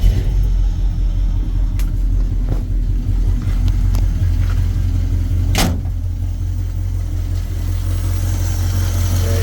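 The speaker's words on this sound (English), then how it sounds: "let's go start the truck up" A carbureted truck engine rumbles steadily up close after starting, a deep, constant idle with a few faint clicks and knocks over it.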